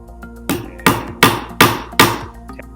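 Hammer driving nails into the side panels of a small wooden craft toolbox: five sharp, evenly spaced blows, close and loud, each ringing briefly against the wood.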